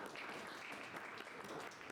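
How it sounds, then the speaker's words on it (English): An audience at a talk on Tesla solar and Python applauds, producing a soft, steady patter of clapping that sounds distant and faint throughout. "And this is the part where you applaud."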